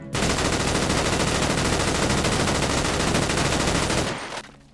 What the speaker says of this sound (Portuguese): Ignora aí os disparos.